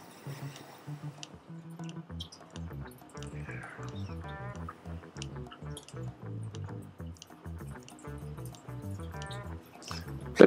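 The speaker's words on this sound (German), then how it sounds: "plätschert ganz schön laut hier." Water in a saltwater reef aquarium setup drips and gurgles continuously, with quick irregular plinks and bubbly trickles close to the microphone, moderately loud throughout.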